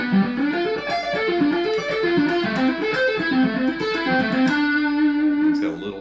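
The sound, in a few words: minor i, major IV, minor v arpeggio progression implying Dorian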